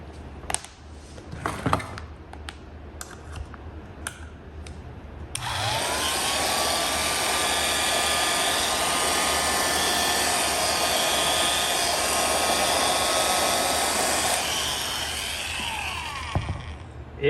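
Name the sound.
Signal OB-4 antique drill motor running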